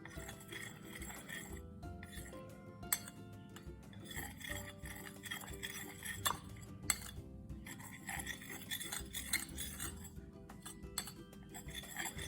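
Metal spoons clink against glass while iodine solution is stirred evenly in a sample container, a steady run of light, close taps and scrapes with a few sharper clinks, no voices.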